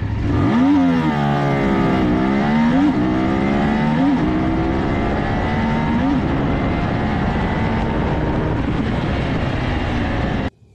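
A Cfmoto 450MT motorcycle engine revs hard through the gears in a 0 to 100 km/h acceleration run with traction control off, its rising pitch climbing and dropping at each shift, loud and close throughout before cutting off at the end.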